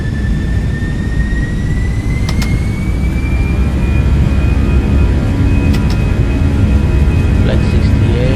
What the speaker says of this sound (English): Here comes the aircraft.